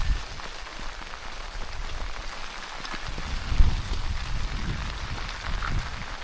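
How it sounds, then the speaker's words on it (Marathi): Heavy monsoon rain pours down at Korigad Fort near Pune with a dense, hissing wash and heavy drops pattering on surfaces, continuous throughout with no voices. "पाऊस बघू शकता तुम्ही किती पडतो आहे"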